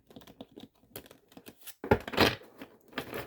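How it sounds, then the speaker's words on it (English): A quick flurry of papery clicks and flutters, thick cards being shuffled close by, with a louder riffling burst near the end. "I'm going to want to give it a good shuffle."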